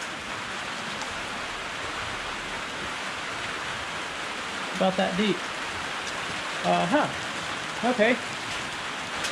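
Steady rain pours outside a garage, a constant broad hiss that persists throughout, while someone speaks a few brief phrases over it.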